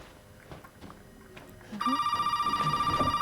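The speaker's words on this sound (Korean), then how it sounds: "전화" A telephone in the horror game Resident Evil 7 starts ringing partway through, a loud steady electronic ring that pulses continuously after a stretch of quiet footsteps and faint movement.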